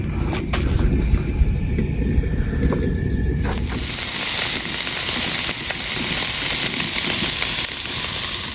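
Hash browns and sausages sizzle on a propane grill outdoors, starting with a low frying crackle and then swelling into a loud, bright, continuous hiss of sizzling fat, up close with no talking.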